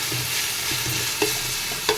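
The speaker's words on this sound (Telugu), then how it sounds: "అల్లం వెల్లుల్లి పేస్ట్ వేగిందండి" Ginger garlic paste fries in a pan for egg biryani, a dense close sizzle with light stirring scrapes and two brief clinks of a spoon against the pan.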